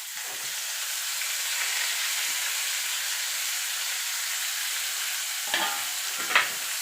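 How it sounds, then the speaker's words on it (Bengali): Bottle gourd leaves stirred in hot oil with garlic and black cumin: a steady, close sizzle and hiss of frying, with a couple of brief scraping clinks from the utensil near the end. "এবার মিনিট খানেক একটুখানি লাউ পাতাটা নাড়াচাড়া করে নেব।"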